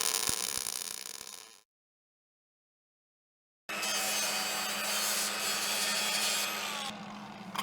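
Steel is cleaned up before welding, likely with a power tool, producing a harsh, steady grinding or abrasive rubbing noise that cuts out for about two seconds and then resumes at steady loudness.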